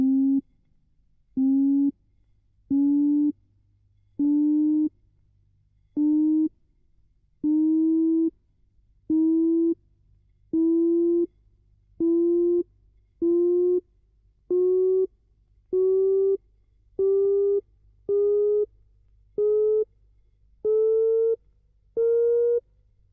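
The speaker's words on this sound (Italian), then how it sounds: "E la scala naturale di Zarlino, anch'essa di 21 suoni." Sixteen steady electronic tones of Zarlino's natural musical scale play one after another at an even rhythm, each short sustained note separated by silence and stepping gradually upward in pitch, clean and alone.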